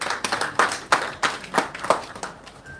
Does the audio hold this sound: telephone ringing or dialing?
no